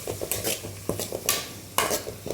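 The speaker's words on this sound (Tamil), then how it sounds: "கூடவே கருவேப்பிலை ஆட் பண்ணிவிட்டு நல்லா வதக்கணும்." Onions, cumin and curry leaves sauté in hot oil in a pan for a crab masala. A spoon scrapes and stirs in quick, close strokes over a steady sizzle, with no talking.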